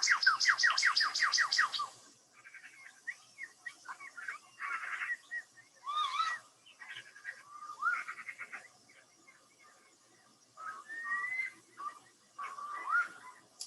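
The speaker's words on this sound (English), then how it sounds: "So the strange sound is the shell duck." Common shelducks calling on a South Devon estuary in summer, a run of rapid nasal notes followed by scattered chirps and whistles from other birds, fairly near and clear against a quiet background.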